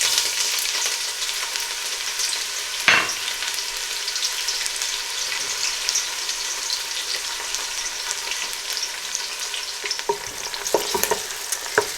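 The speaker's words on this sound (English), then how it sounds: "It's now got nice and hot, so I'm just going to add the onion." Chopped onions sizzle and fry in hot oil in a pan over low to medium heat, giving a close, continuous crackling hiss. A brief louder stir or clatter breaks in partway through.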